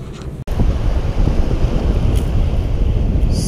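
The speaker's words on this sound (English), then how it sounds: "I'm not sure if you're able to hear me with the wind" Steady, loud wind buffets the microphone outdoors on a fishing trip off southern Tamil Nadu, with a roaring low rumble and surf-like hiss, broken only by a brief dropout near the start.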